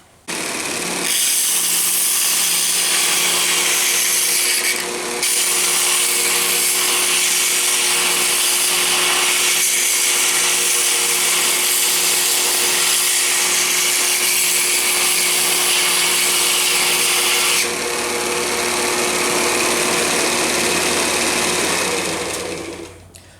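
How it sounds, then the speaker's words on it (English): A Sears and Roebuck 4x36 belt sander grinds a worn wrench, a loud continuous whine and rasp that runs for about twenty seconds with a short dip early on, no talk. "we'll do a little grinding on this chowdered up wrench"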